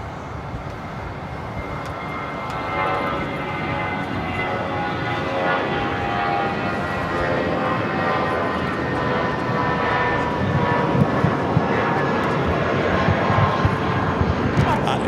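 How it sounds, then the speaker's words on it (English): A Condor airliner takes off on runway 24 left at LAX, its jet engines making a continuous broad roar that holds steady for the whole stretch, with a voice talking over it. "Condor heading to the north side would be taken off on the 24 left."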